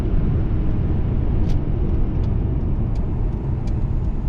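A car at low speed with a worn U-joint in its drivetrain shudders and rumbles steadily as the torque converter locks up, a dense close low drone with faint intermittent ticks.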